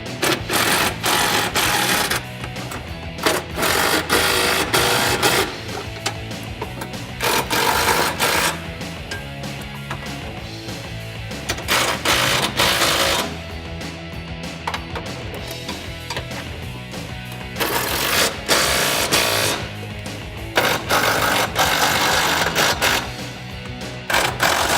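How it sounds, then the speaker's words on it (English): Power tool tightening bolts on the side step brackets of a 2007-2018 Chevrolet Silverado crew cab, buzzing in repeated rapid bursts with brief pauses, loud and near, no talking. "go ahead and tighten down all the bolts on all the previous brackets."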